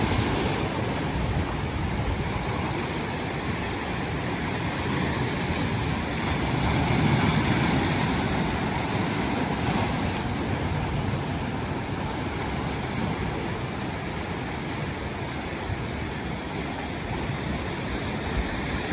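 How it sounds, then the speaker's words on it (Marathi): Sea waves surge and break against a rocky shore where fish are caught among the rocks, a steady close roar of surf with wash and spray swelling around the middle and continuing throughout without speech. "समोरून लाट येते"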